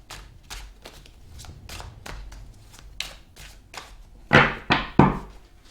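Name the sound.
shuffling a deck of tarot cards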